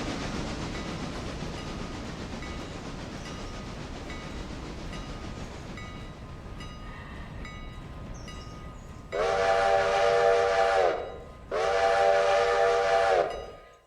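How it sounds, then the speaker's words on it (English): Game train in Railroader rumbling as it slows for a small station, steady low rolling noise, then two long loud low whistle blasts near the end, no voices. "In addition to slowing down for the station, it's got a low whistle blowing."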